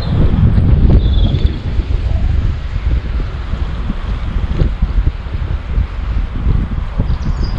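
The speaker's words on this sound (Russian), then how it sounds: "ветер, волны" Gusty wind buffets the microphone beside water during a trout fishing outing, a loud, continuous low rumble with rustling texture and a faint bird chirp early on.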